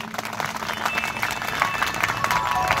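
Audience applause at a gathering, a sustained wash of clapping from a crowd that holds steady throughout, fairly close and without a break.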